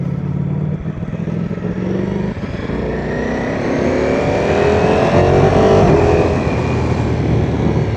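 A loud Ducati Streetfighter V4 motorcycle engine revs steadily, its pitch rising and falling as it accelerates, close up and continuous without pauses.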